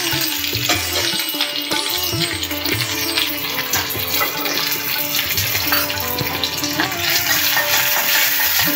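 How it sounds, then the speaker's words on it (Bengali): Chopped small onion frying in hot oil with whole garam masala in a pan for a mixed dal, a dense, steady hiss and crackle that stays loud throughout, with tonal background sound layered over it. "এবার কুচানো পেঁয়াজ দিয়ে দিলাম"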